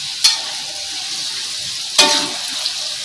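Tofu frying in hot oil in a home kitchen gives a steady, close sizzle, with two sharp bursts of crackling spatter as pieces are stirred or dropped in.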